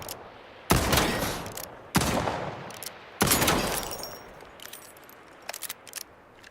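Three loud revolver shots ring out about a second apart in the game Highguard, each one a sharp crack with a decaying tail, followed by a few faint mechanical clicks of a reload.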